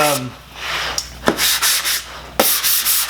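Sandpaper worked by hand along the edges of a wooden flat-pack mortiser, loud, close rasping strokes in an uneven rhythm of about six rubs, with a sharp knock partway through and no talking.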